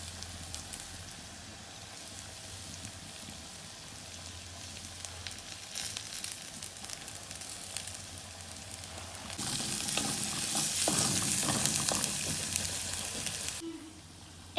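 Curry leaves sizzle and crackle in hot oil for a mango ginger pickle, a steady close frying hiss that swells louder toward the end, with no voices.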